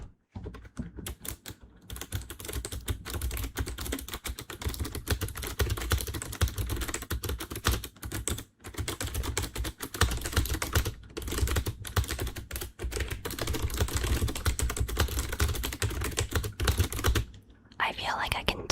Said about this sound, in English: I feel like I can type a lot faster using this keyboard.